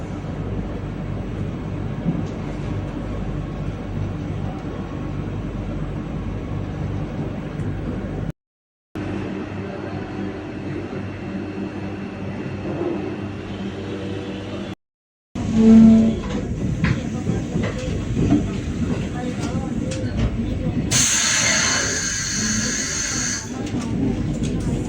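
A Chennai–Mysuru Vande Bharat Express runs along the track, a continuous loud rumble of wheels and carriage noise heard from inside, with two brief dropouts and a rising hiss and rattle toward the end.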